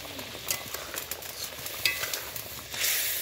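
Fried fish goes into a simmering curry masala, giving a soft sizzle with scattered stirring clicks and scrapes from a utensil in the pan, close up and with no talking.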